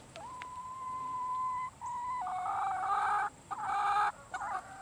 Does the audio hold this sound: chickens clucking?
yes